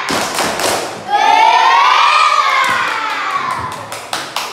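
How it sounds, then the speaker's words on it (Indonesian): Classroom of schoolchildren shouting a rhythmic clapping cheer in unison, loud and close, with sharp claps at the start and end and a sustained chanted cry through the middle. "Berikan tepuk hebat untuk kelompok 3"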